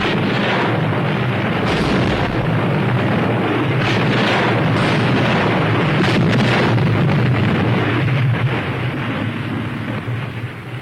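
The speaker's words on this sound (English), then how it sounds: "the New Jersey's guns were test-fired for the first time out of mothballs" The battleship USS New Jersey's heavy naval guns test-fire, producing a loud, sustained wall of deep booming rumble that rolls on without a break for the whole stretch.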